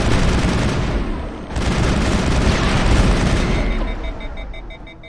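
A grenade goes off in the sci-fi shooter Mass Effect, a loud, sustained booming blast with rumbling debris that fades out over a few seconds, alone with no talk.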